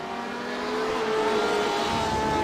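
Porsche and BMW race car engines in close sim racing at Daytona, a loud steady engine drone with whining tones that climb in pitch as the cars accelerate together.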